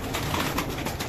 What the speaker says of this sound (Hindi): लो जी ये नायाब बांका कबूतर दिखाने लगे हैं